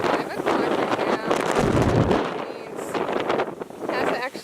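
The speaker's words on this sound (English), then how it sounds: "It hasn't actually reached yet, but it's starting to get windy." Strong gusty wind ahead of Hurricane Lane on Maui buffets the microphone in a steady, loud roar with rumbling bursts, under a person talking throughout.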